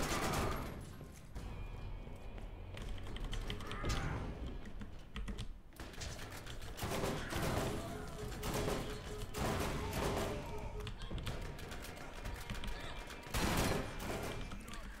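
Repeated blasts from the Sledge's Shotgun in the video game Borderlands: rapid, crackling gunfire bursts that come close and loud over a busy wash of game sound.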